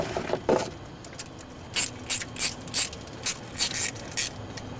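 A ratchet wrench tightens a fitting on a hose during a leak repair, its clicking pawl heard close up in a rapid run early on, then as a series of short, evenly spaced bursts, with no talking.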